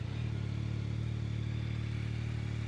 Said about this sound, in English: let me start it up real quick and show you the beautiful sounds this bike makes